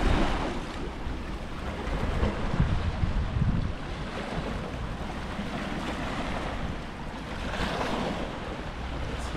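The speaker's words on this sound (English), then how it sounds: "Listen to the water rush up against." Waves from the bay wash and surge against the shore at Sausalito in slow swells, with steady wind buffeting the microphone throughout.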